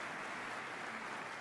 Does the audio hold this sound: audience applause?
yes